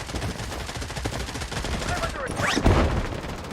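Gunfire in the mobile shooter Blood Strike comes as a steady rapid automatic stream of close, loud shots, with a few heavier impacts near the end.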